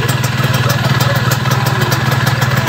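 A Yamaha F1ZR motorcycle engine idling steadily with its voltage regulator removed, a loud, close, rhythmic two-stroke putter with mechanical clatter and no talking.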